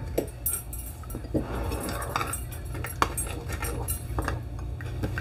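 Raw chicken being mixed with ginger garlic paste in a bowl, giving a steady run of close clinks, scrapes and wet squelching from a utensil against the dish, with no one talking.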